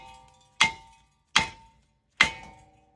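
Three loud, sharp metallic hammer blows on a car brake rotor during a brake pad and rotor change, evenly spaced with a ringing clang after each strike, close and without talk.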